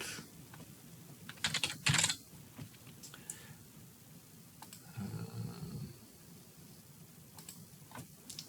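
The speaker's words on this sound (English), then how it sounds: "To download app, I click on search and type KML into Sqlite." Typing on a computer keyboard while entering search text for an app, with scattered soft key clicks and a couple of louder bursts of keystrokes, close and faint, with no talking.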